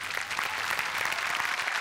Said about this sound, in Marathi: रिंगण याच सिनेमाचे निर्माते असलेले गणेश फुके यांच्यासाठी जोरदार टाळ्या.